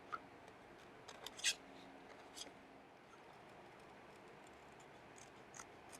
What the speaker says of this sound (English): I'm going to take my scissors and just cut around this